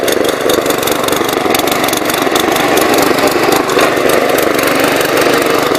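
A hot rod's engine runs loud and close at a steady idle, a rough, continuous rumble that holds without a break from start to finish.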